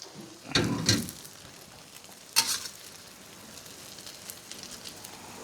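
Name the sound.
flipped Thai omelet sizzling while frying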